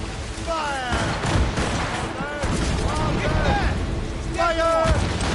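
A cannon volley fired from a sailing ship in Assassin's Creed Rogue: repeated heavy booms rolling over wind and sea noise, with crew shouting orders over the barrage.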